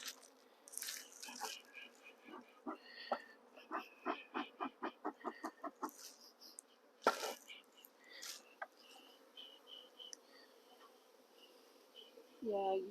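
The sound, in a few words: honeybees buzzing at hive entrance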